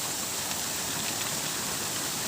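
Rain pours steadily outdoors, a dense, even hiss of falling water with no distinct drops or pauses and no voices.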